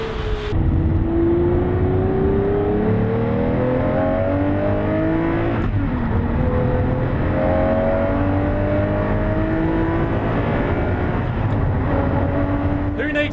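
A 6.5-litre V12 engine revving hard nearby: a loud, continuous roar that climbs in pitch several times, with repeated throttle blips.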